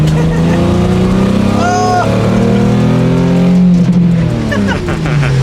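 A sports car's loud engine roars continuously close by, its pitch rising and falling as it revs and accelerates hard on a straightaway.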